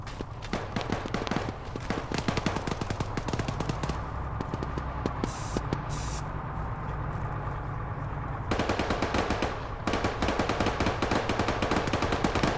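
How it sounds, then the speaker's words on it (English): Rapid automatic gunfire from enemy fighters in the ArmA 3 infantry shooter, dense bursts of loud shots running almost continuously, with a brief lull in the middle before heavy firing resumes. "That's enemy fire coming from that doorway over there."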